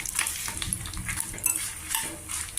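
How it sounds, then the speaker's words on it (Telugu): Dried red chillies frying in a pan of oil, a steady soft sizzle with scattered crackles and light scraping of a spoon stirring, close and continuous with no talk. "ఇందులోనే వేసుకుని ఇది కూడా నలుపెక్కకుండా, మిరపకాయలు నలుపెక్కకుండా వేయించుకోవాలి."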